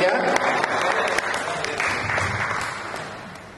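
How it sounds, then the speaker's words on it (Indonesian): An audience at a Ramadan iftar gathering and BPJS Ketenagakerjaan outreach event claps in a dense, steady round of applause that slowly fades, with voices mixed in. "Kita beri aplaus untuk BPJS Tenaga Kerja."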